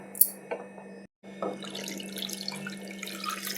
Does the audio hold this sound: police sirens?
no